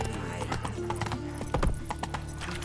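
A horse in The Witcher 3 gallops with rapid rhythmic clip-clop hoofbeats over a steady game ambience, with a brief louder thump midway, close and continuous.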